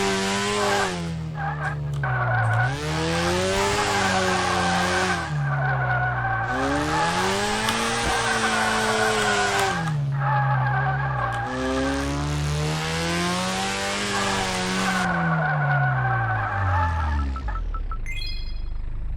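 A drifting car in the racing game Drift 21 on a Japanese track: a loud, continuous engine roar rising and falling through repeated revs, with long tire squeals as it slides.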